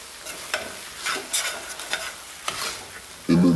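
Fried ramen noodles and egg are stirred in a hot pan, giving a steady close sizzle with soft scraping strokes and a sudden louder clatter near the end.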